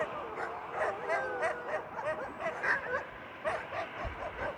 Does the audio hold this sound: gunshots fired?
no